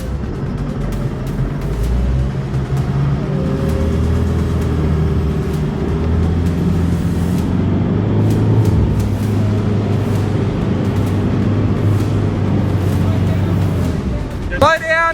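Off-road vehicle engine drones steadily while driving forward and winching through a deep river crossing, a continuous loud rumble with a brief clatter at the end; voices talk over it.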